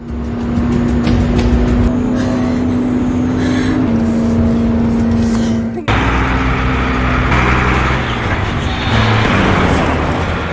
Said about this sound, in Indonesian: ketika sebuah mobil truk datang